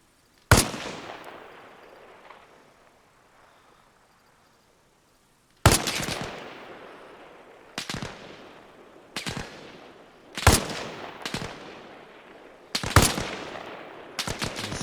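Sharp rifle shots ring out in ARMA Reforger, a single loud crack followed by a pause, then a string of separate reports with echoing tails, some fired as quick pairs, close and loud with no voices.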